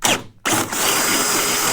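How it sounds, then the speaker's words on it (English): A power drill works on a fastener on a 1931 Ford Model A cowl, a loud whirring burst that cuts out briefly and then resumes as a sustained drone. "Well, I need to drill that out."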